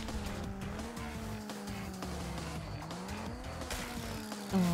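Kart at full throttle in the racing game Crash Team Racing Nitro-Fueled, with a steady buzzing engine tone whose pitch wavers and rises under game music and effects, ending in a brief louder burst.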